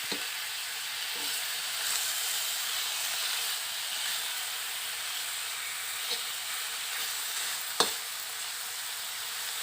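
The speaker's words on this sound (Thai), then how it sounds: "ผัดให้มันสุกนะคะ" Food stir-frying in a pan, a steady close sizzle and hiss for nearly ten seconds, with occasional faint clicks of a utensil against the pan.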